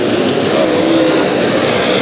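Late model race cars roar around Bakersfield Speedway in a loud, continuous engine drone that stays steady and close for the whole moment.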